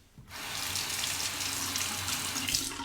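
Water running steadily from a bathroom tap into a sink as a razor is rinsed during a shave, a close, continuous splashing rush that begins abruptly and holds to the end.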